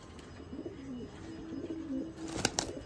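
A competition pigeon in a loft in Chinsurah, Hooghly gives a low, soft coo, with a faint chirp nearby and a sharper clatter near the end.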